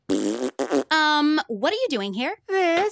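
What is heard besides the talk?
cartoon bean character farting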